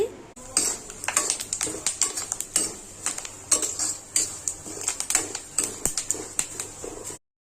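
Spices for a spicy puffed rice mix being stirred in a pan, a close run of rapid metallic scrapes and clinks of spoon on metal, steady and fairly loud, with a low faint sizzle beneath.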